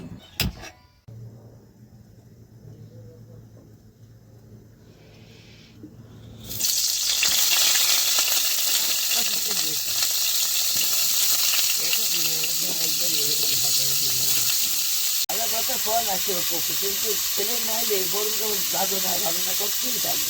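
Cauliflower florets frying in a pan for a potato-cauliflower curry, a loud steady sizzle and hiss that jumps in from a quieter start and carries on to the end, with faint voices underneath.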